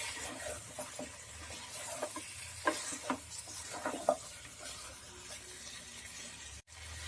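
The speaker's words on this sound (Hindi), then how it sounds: "पाए को मैंने हाई फ्लेम पे 1 से 2 मिनट के लिए अच्छे से भून लिया है।" Mutton trotters (paya) with spices sizzle and fry in a pan over high flame while being stirred, a soft steady hiss punctuated by scraping, clinking strokes of the spoon, close and fairly quiet, without any talk.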